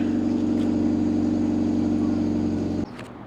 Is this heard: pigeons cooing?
no